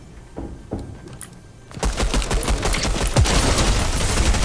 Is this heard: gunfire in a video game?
yes